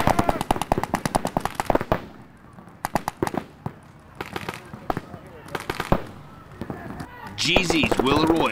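Paintball guns fire during a tournament match, loud rapid volleys of sharp pops in dense bursts with brief gaps, while voices shout and talk nearby.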